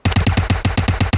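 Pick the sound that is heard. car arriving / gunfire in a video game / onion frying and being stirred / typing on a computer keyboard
gunfire in a video game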